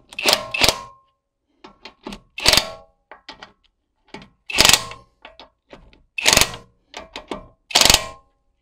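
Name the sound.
Popoman impact wrench tightening a nut at minimum torque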